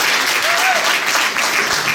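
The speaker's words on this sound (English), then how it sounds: "Give him a round of applause" An audience at a panel discussion applauds steadily, a dense wash of clapping throughout, loud and close.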